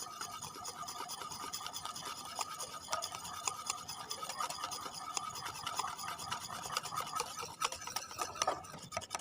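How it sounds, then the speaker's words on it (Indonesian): Egg batter being stirred in a bowl for Indonesian cakes, with steady scraping and rubbing around the sides, continuous and close, no voices. "jadi kita aduk sampai bagian pinggirnya."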